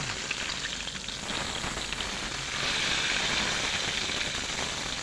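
Rohu fish pieces coated in salt and turmeric fry in hot mustard oil in a wok, giving a steady, even sizzle close by with no talking over it.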